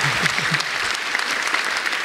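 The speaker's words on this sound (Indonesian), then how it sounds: "Boleh kasih tepuk tangan buat mereka bertiga sekali lagi semuanya." Studio audience applauding for three guests on a talk show, a steady burst of dense clapping with a short voice under it at the start.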